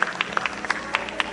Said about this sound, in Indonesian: Tepuk tangan untuk semua para narasumber.